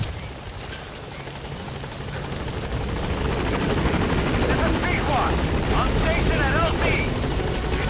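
A helicopter in Metal Gear Solid V thumps with a steady rotor chop that grows louder, with brief voices over it.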